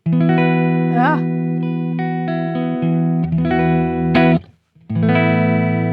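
Sustained electric guitar chords ring out with a clean, bright tone from a Fractal AX8 USA Clean Mesa Boogie amp model, a few notes bent and changed before a brief pause and another strum.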